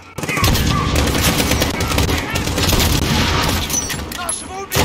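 Rapid automatic gunfire and bursts of shots from the Call of Duty: Modern Warfare campaign, loud and nearly continuous for several seconds with booming impacts, mixed with shouted voices.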